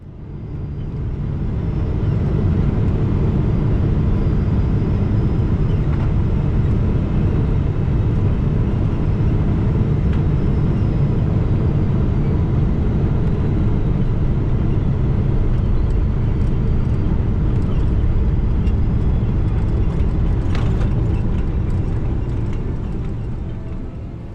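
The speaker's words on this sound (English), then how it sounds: "Talk about a smooth landing, I didn't even realise the aircraft had touched down." British Airways airliner landing and touching down, heard from inside the cabin as a steady, loud, low engine and airflow roar that holds throughout with no distinct bump at touchdown.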